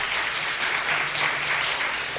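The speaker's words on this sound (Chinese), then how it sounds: "用掌声献给耶稣" A church congregation at a Saturday worship service breaks into sustained, dense applause that fills the hall evenly from start to finish, with no speech over it.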